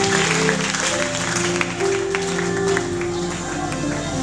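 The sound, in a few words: congregation applauding to acclaim the Lord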